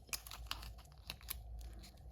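Backing paper peeled off a vinyl decal on a champagne bottle, a series of soft crackling, tearing snaps at irregular intervals, close and quiet.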